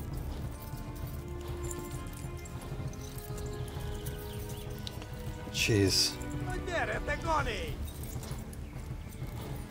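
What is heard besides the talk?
horse galloping, from the video game Kingdom Come: Deliverance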